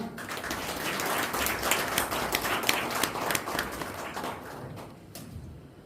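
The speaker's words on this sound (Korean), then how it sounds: "큰 박수 부탁드립니다." Applause from an audience greeting a guest coming up to the stage at a Korean rescue organization's presentation event, a dense steady patter of clapping that carries on for several seconds before fading toward the end.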